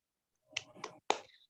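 Children perform a rhythmic clap, three sharp bursts of claps separated by short gaps, fairly quiet and close, with no talk in between.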